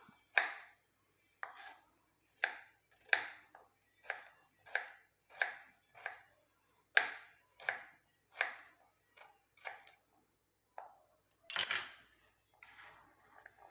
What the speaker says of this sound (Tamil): இந்த மாதிரி நல்லா பொடுசாக ஒரு கிழங்கு வந்து கட் பண்ணிவிட்டு அந்த மருதாணி இலையோடவே நம்ம இதில் சேர்த்துக்கலாம்